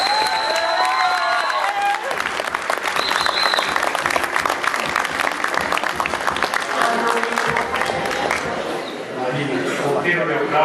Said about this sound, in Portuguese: Senhoras e senhores, aplausos para Marina Quebra-Barraco